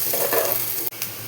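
Chopped onion fries in a pan of oil after eggs were fried for an egg curry, giving a steady close sizzle with light stirring and a brief cutout near the end.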